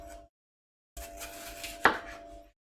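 A knife dices red pepper on a cutting board, giving a short run of quiet, close chopping taps with one sharper knock, set between brief stretches of silence.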